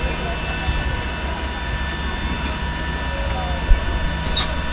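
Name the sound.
inside an airplane cabin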